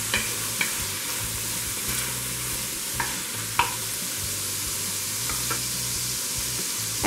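Ingredients for a low-carb red curry chicken soup sauté in a pan over medium heat, giving a steady close sizzle with a few soft stirring clicks scattered through it and no voices.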